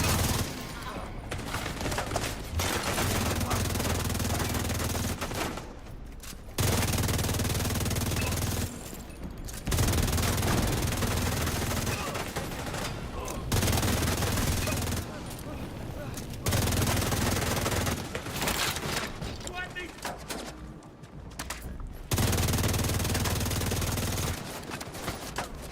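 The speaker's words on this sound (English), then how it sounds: "The rate of fire with this slicer right now is absurd." Slicer gun in The Division 2 firing in long rapid bursts separated by short pauses, loud and close, with several bursts over the span.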